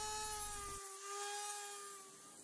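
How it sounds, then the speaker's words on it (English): A power tool grinds blisters off the undersides of the wings of a Hobby King Lancaster V3 model aeroplane, a steady high-pitched whine with a tonal drone, close and loud, continuing alone. "I'm also going to grind these blisters off the undersides of the wings."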